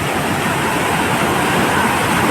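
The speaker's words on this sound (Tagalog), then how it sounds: "Tingnan nyo guys, sobrang lalaki ng alon." Big sea waves whipped up by Typhoon Dante at Sablayan, Occidental Mindoro, roaring as a dense, continuous wash of surf close by, with no voices heard.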